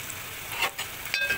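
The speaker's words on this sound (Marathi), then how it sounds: "मस्त कांदा परतून घेऊया।" Onions sauté in a pan with a soft, fairly faint sizzle and a couple of brief scraping stirs heard up close, with no talking.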